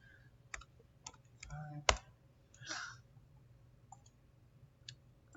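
A slightly broken computer mouse gives sparse, faint clicks at close range, scattered and irregular, with quiet background noise between them.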